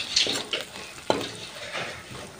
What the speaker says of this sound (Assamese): তাৰপাছত আকৌ এনেদৰে 1 মিনিট ভাজি লৈছোঁ।